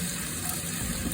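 Meatball curry browning in a lightly oiled pan while being stirred, a steady close crackling sizzle throughout the brief moment.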